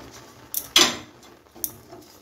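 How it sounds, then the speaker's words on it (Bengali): A utensil scrapes and taps against a pan while bread crumbs are stirred into hot milk on a gas stove, giving a few brief clinks with one louder scrape in between. "এখন আমি নেড়ে চেড়ে একটা মন্ড তৈরি করে নিচ্ছি"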